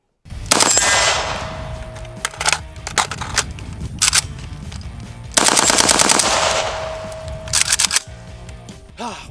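Bursts of AK-12 automatic rifle fire, loud and sharp, come in several rapid strings separated by brief pauses, with metallic clacks between volleys.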